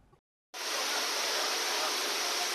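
Heavy monsoon downpour over a flooded street, a steady dense roar that starts abruptly after a brief silence and holds loud and unbroken.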